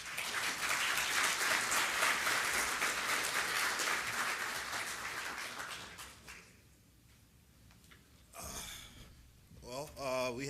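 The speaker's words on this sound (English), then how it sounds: "Let's give him a round of applause." Applause from a conference audience after a presentation fills the first six seconds, fading out before a few brief voices and rustles close it.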